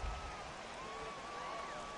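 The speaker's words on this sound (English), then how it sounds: "This has got to be the hardest rain we've seen all afternoon." Heavy rain pours down on a ballpark in the baseball video game MLB The Show 18, a steady faint hiss of falling drops with no clear voices over it.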